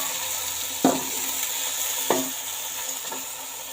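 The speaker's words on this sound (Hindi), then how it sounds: "अब हम इसमें डालेंगे ग्रीन वाला प्याज, ये सब्जियों में बहुत अच्छा लगता है, इसका टेस्ट भी बहुत अच्छा होता है। इनको हम तकरीबन 1-2 मिनट फ्राई करेंगे।" Green onions frying in a pan for a cauliflower and meat curry, a steady soft sizzle with two or three brief stirring scrapes standing out, no talking.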